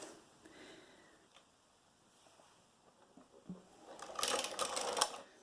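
A KnitKing Knittax AM3 knitting machine carriage swishes across the needle bed in a brief rushing, clattering pass near the end, after quiet handling noises.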